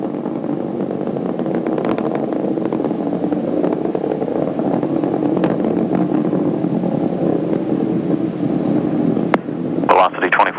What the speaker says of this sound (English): Three engines performing normally.